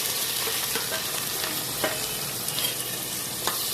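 Onions frying in about 100 ml of hot oil in a cooker for a mutton thali chalna, a dense, loud, close sizzle with faint stirring clicks running throughout, no voices.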